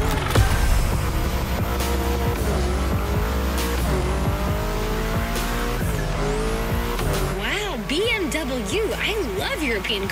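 A BMW M5 Drift Edition, a 953-horsepower front-engine rear-wheel-drive car, drifts in The Crew Motorfest: a roaring engine with repeated gear shifts, then wavering, looping tire squeals as it slides, loud and close throughout.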